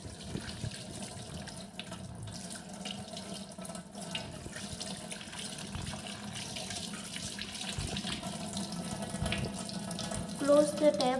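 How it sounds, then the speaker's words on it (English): Water runs steadily from an open tap into a sink during handwashing, a constant close splashing stream that grows slightly louder toward the end, with no talk. "Now open the tap"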